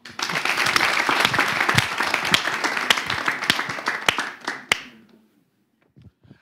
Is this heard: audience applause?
yes